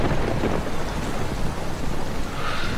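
Steady rain with rumbling thunder falling on an outdoor film set, a continuous wash of rainfall with low rolling thunder, loud and close, with no talk.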